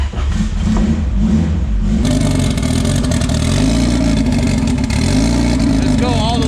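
A hot rod race car engine being revved while its timing is set ahead of a PSCA race, loud and close, rising from a rough idle into sustained throttle blips with clattering mechanical noise.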